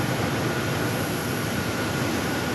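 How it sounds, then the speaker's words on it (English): A jet taking off from runway 8 at Phoenix Sky Harbor airport, a steady loud broadband roar that holds without letup across the whole stretch, with no voices over it. "Oh, we got a takeoff on 8."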